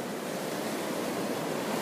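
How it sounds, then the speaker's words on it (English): Ocean waves roll in at Venice Beach at night, a steady, enveloping rush of surf that continues without a break for the whole stretch, with no voices over it. "Can hear the waves"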